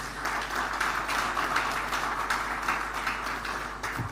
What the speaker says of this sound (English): he deserves a better round of applause